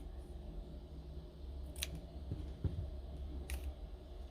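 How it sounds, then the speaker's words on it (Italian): Scissors snipping through a paper strip, two faint, sharp cuts roughly two seconds apart, heard close against a quiet room hum. "direttamente con la forbice tagliate"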